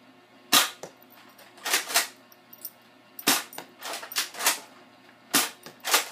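Several sharp, snappy pops from a Nerf gun shooting at a Pepsi bottle come in quick bursts of two or three, with brief pauses and faint clatter between volleys.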